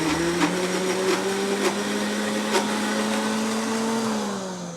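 A kitchen mixer grinds dry coconut for tamarind thokku, a loud, steady high whine held close throughout that eases slightly at the end.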